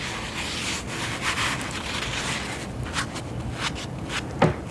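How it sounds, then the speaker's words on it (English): A Scrub Daddy brand Scrub Mommy sponge is rubbed against its scratchy side in steady, close, soft scraping strokes, with no talking. "But I like this nice scratchy texture."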